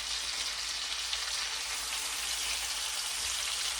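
A lamb shank browning in a hot pan gives a steady, close sizzle and crackling hiss that runs evenly throughout, with no talking.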